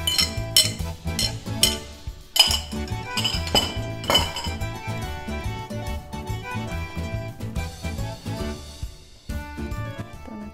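A utensil clinks and scrapes against a bowl while mashed bananas are stirred into pancake batter, giving steady close tapping and clattering with a few sharper knocks. No one speaks.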